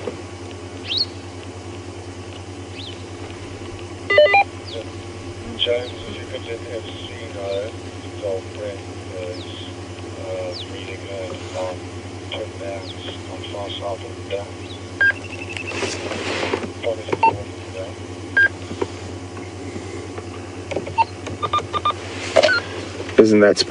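Small electronic beeps and chirps from a device on a morning safari drive at Djuma Game Reserve sound intermittently over a steady low hum, with occasional bursts of faint clatter and scattered bird-like tones.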